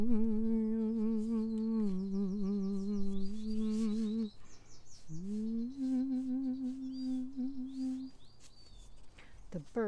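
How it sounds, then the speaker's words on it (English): Birds calling outdoors on an afternoon, a close, loud bird whistles long sustained tonal notes with warbling chirps and trills layered above, continuous with a brief pause midway. "The birds are having a meeting."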